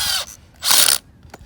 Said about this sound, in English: then we just screw it in again